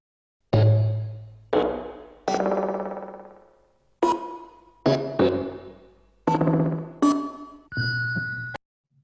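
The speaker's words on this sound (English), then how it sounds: "The target sound file we're going to use is an excerpt from Kontakte by Stockhausen" An electronic music excerpt from Stockhausen's Kontakte: a series of separate metallic, bell-like struck tones with resonant decays, some short and some ringing longer. It is clear and close, with no talk.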